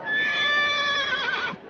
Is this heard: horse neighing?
yes